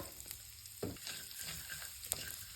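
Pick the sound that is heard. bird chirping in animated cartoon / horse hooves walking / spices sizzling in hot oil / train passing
spices sizzling in hot oil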